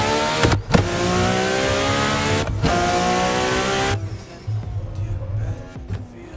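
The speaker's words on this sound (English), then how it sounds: "this R-34 is probably my favorite car in the pack. It sounds, like, so mean, dude" A Nissan R-34 in Assetto Corsa revs hard with a steady, loud, harmonic-rich engine note. It briefly dips during quick shifts, then drops to a lower, quieter drone near the end.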